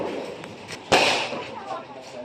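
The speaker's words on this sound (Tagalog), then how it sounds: "Kanya-kanyang paputok." Firecrackers going off outdoors at a New Year celebration at home, one sharp loud crack near the middle over a busy background with voices talking.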